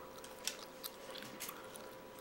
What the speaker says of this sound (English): This chewing gum sounds so nasty